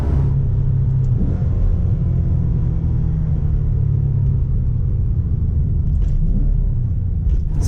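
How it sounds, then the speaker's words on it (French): A sports car downshifting with its engine revving: a steady, loud low engine rumble with rising and falling pitch, heard from close by with no talk. "Les rétrogradages, ça c'est vraiment ce qui va bien cette voiture."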